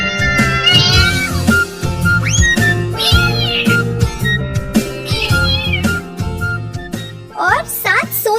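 Cartoon sound effect of two cats meowing, repeated rising and falling meows over a rhythmic background music loop, loud and close, with several distinct cries throughout.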